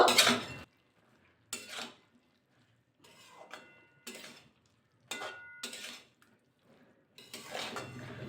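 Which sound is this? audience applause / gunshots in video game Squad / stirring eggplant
stirring eggplant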